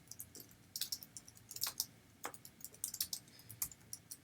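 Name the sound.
typing a commit message on a computer keyboard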